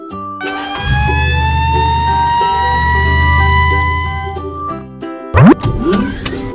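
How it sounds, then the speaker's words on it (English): A fire truck siren wails in a steady, loud, sustained rising tone with a low engine rumble beneath, close by, ending with a short burst of other sounds. "Fire truck."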